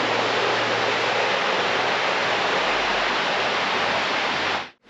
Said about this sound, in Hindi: यहाँ देख रहे हैं कि पानी की आवाज़ भी आ रही है कितनी ज़बरदस्त